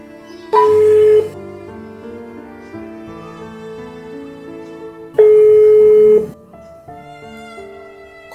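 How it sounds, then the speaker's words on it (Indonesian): A telephone call rings out: two long ringback tones sound several seconds apart over a soft sustained musical background, with no one answering. "Saya coba telepon lagi deh Pak Hajinya."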